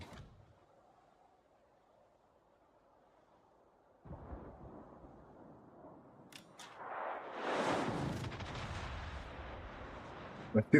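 Warship guns fire armor-piercing shells in the naval battle game World of Warships: a low rolling boom builds and then swells into a heavier blast with lingering rumble, moderately loud.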